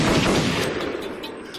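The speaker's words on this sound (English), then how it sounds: "It's very rare you hear a song start with gunshots anymore." A song opens with a quick burst of gunshots, sharp bangs up front that trail off into scattered cracks.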